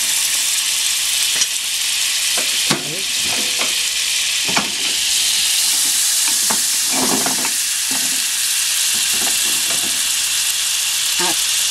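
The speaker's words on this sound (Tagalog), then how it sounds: "Meron tayo ditong sizzling pan, pinainit natin. Then dito maglalagay tayo ng butter." Butter melts on a preheated sizzling pan with a steady loud hiss of frying, broken by occasional clinks and scrapes of utensils, with a voice speaking briefly.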